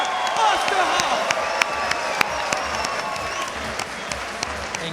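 Crowd at an LFL MMA event applauding and cheering loudly after a women's fight, steady dense clapping with scattered whoops, while an announcer talks over it.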